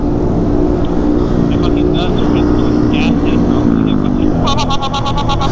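Loud, constant motorcycle engine drone while riding downtown doing wheelies, with wind rush and a rider's voice over it, plus a rapid series of horn-like beeps near the end.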